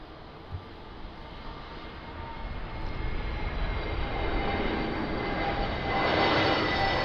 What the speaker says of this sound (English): it was a long takeoff roll.